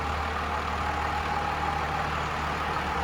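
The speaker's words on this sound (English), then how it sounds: "You can see it idling in here inside the showroom." A Dodge Ram 2500 Laramie 4x4 with a Cummins 5.9L 12-valve diesel idles indoors in a showroom, a steady low rumble with an even mechanical clatter and no other sounds.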